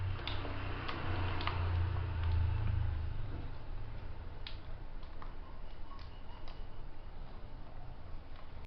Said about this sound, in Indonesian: Nah, sekarang kita langsung bongkar mouse-nya.